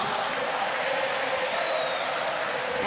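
A basketball crowd at a Morocco versus Tunisia game roars for Tunisia, a dense, steady wall of cheering and shouting filling the arena, loud and continuous throughout.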